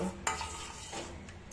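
A spoon stirring a yeast mixture for whole-wheat atta pizza dough in a bowl, producing a few soft scraping strokes and light clinks, close and quiet, without voices.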